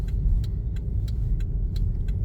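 A car engine idles steadily near a dumpster, a loud, even low rumble with faint regular ticking on top and no voices.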